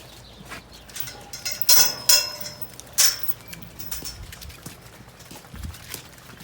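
Hooves of dairy cows walking into a farm yard and milking shed, irregular knocks and clops on a hard floor, moderately close, with a few louder clanks among them over a low background hum.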